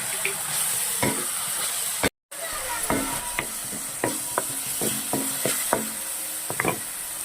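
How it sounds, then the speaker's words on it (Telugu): Tomato paste frying in oil in a pan for street-style peas chaat, stirred with a spoon: a steady close sizzle broken by a series of sharp utensil knocks against the pan, with one brief dropout. "టమాటా పేస్ట్ వేసుకుని కలుపుకోవాలి."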